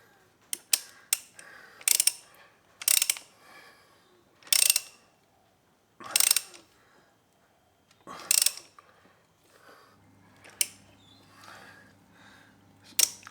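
A ratchet tightens a nut during chain replacement on a Honda CB750 F2 motorcycle, giving repeated short bursts of close, crisp clicking separated by pauses, with a faint low hum near the end.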